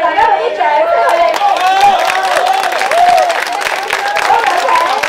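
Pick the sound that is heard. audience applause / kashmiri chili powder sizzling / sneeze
audience applause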